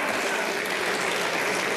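Applause in the Austrian National Council chamber: a steady, even wash of many hands clapping from the benches, continuous and moderately loud throughout, without any speech.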